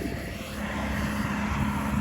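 A John Deere hay machine runs in a field, giving a loud, steady engine drone with a low hum throughout and no voices.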